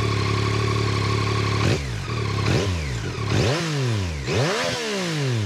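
A 2023 Yamaha MT-09 motorcycle engine idles steadily, then is revved hard several times, each blip rising and falling sharply. It sounds close and loud, and no one speaks.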